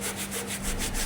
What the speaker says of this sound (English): I am sanding with 120 grit dry sandpaper and a block